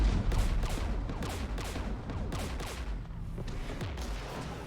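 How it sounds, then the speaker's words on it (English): Mass Effect 3 firefight near a Geth jamming tower: rapid overlapping gunshots crackle in dense volleys at moderate distance, a steady fusillade with no pauses. "We're taking fire."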